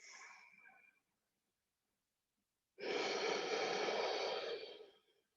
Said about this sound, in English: And you're exhaling like you're fogging a mirror.